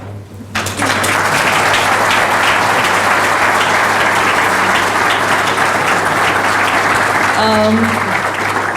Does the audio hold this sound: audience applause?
yes